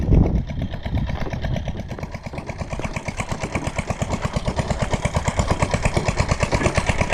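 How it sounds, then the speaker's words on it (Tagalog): An engine chugs at a steady rhythmic idle, its regular pulses running continuously, close and fairly loud after a brief rougher start. "Kumahandar na naman yung makina natin."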